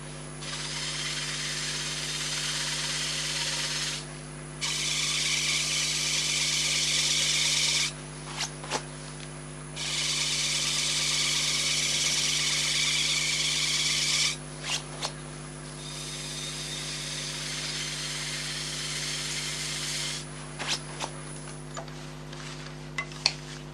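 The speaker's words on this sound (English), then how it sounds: "just going to use a brush, a fairly stiff brush, just to get any excess out of the texturing" Stiff brush spinning in a power tool chuck, scrubbing excess from a textured crackle-glaze surface: long steady bursts of harsh rasping hiss, stopping and restarting several times with brief knocks between runs, under a constant machine hum.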